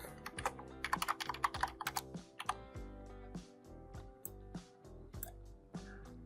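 Quick, uneven keystrokes on a computer keyboard as a value is entered, with clustered clicks and brief pauses, close and clear without any speech.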